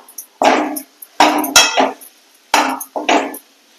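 Potatoes are stirred in a pan, with a spoon scraping and knocking against the metal in several distinct, close strokes separated by brief pauses.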